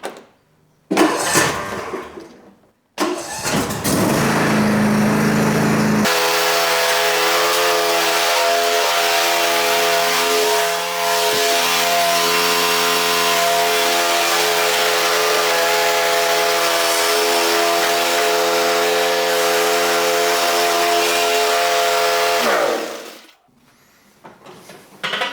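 John Deere S160 riding lawn mower engine cranks briefly, then catches and runs at a loud, steady idle for nearly twenty seconds before shutting off, with no talk over it.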